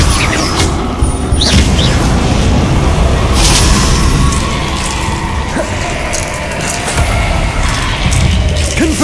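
Hogwarts Legacy spellcasting, including the Incendio fire spell, fills a loud, continuous stretch. Roaring, crackling bursts and booming impacts pile on one another with no pause.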